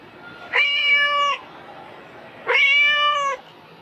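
A cat meows twice, two clear, drawn-out calls close by, separated by a short quiet pause.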